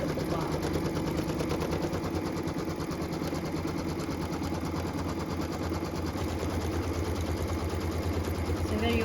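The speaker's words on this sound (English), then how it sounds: "So what we're stitching now is the trimming outline for our block." A sewing machine stitches the trimming outline of a quilt block, a fast, steady mechanical whir with rapid needle ticks running unbroken from start to finish, close and clear.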